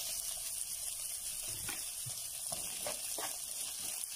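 Chopped poblano chile and onion hit an oiled frying pan with a steady, bright sizzle, punctuated by a few soft clatters and scrapes of stirring, no talking.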